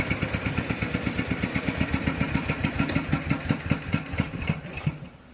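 A diesel tractor engine idles nearby with a steady rhythmic chugging that loosens and fades near the end.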